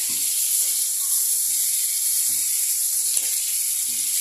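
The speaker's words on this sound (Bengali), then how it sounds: "কলিজাগুলো তাড়াতাড়ি এমনি ভাজা হয়ে যায়।" Constant bright sizzling hiss of chicken liver frying in hot oil, with a few faint soft knocks underneath, steady and close throughout.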